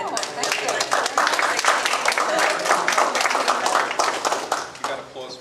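An indoor audience breaks into sustained applause after a lunch is acknowledged, dense overlapping clapping at a steady level for several seconds, with voices mixed in.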